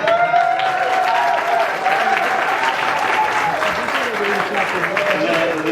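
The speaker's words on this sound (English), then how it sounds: "I see this side of the room clapping." A room of people at a gathering in Montreal claps continuously for several seconds, a dense, loud and steady applause with voices mixed in underneath.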